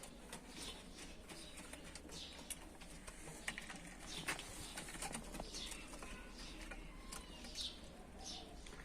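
Tumbler pigeons in a breeding coop give soft, low cooing with scattered rustles and wing flutters, a steady faint murmur of several birds close by.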